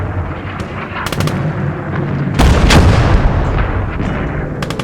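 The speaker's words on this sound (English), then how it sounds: "The Russians were now firing on Berlin itself." Artillery fire bombarding Berlin during the Russian assault, a dense continuous rumble of distant and nearer blasts with sharp sporadic cracks, building to a heavier, louder barrage midway and rolling on without pause.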